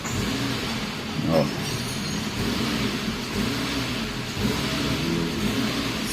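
A Renault Sandero engine idling with a loose engine mount gives a steady low rumble with slight surges, while someone talks over it nearby.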